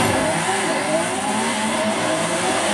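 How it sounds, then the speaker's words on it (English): Lamborghini Aventador engine in Forza Horizon 5, a steady, loud, continuous high-revving drone that holds at full power with no pauses and no voices. "That Aventador is quick."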